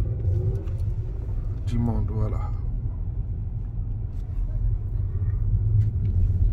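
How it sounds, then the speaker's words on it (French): Cars roll along a street in Brussels where cars and trams share the road, a steady low traffic rumble under someone talking close by. "les voitures, les trams se côtoient sur les mêmes voies."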